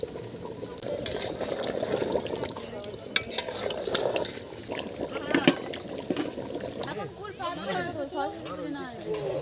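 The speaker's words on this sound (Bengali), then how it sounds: "ট্যাংরা মাছের তরকারি কষানো হয়ে গেছে এখন জল ঢেলে দিলাম" Water poured into a pan of tangra fish curry, a soft splashing pour and stirring heard faintly under someone talking over a busy kitchen background.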